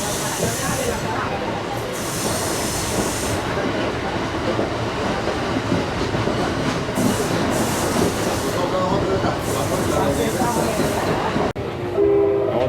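A panoramic railway car beside the Panama Canal rumbles steadily along the tracks with a constant broadband roar and hiss, the noise filling the whole stretch before briefly changing near the end.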